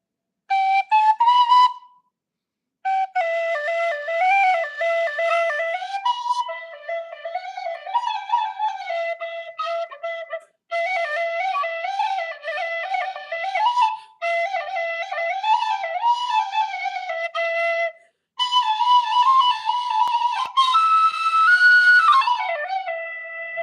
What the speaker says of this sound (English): Tin whistle.